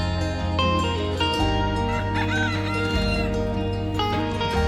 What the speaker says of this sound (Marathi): गाव कोंबड्याच्या बांगाने जागे झाले होते